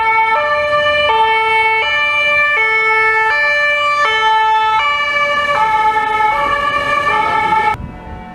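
An emergency vehicle siren near a fire station and police post in Geneva, Switzerland, wails loud and close in a steady two-tone alternation before cutting off abruptly near the end.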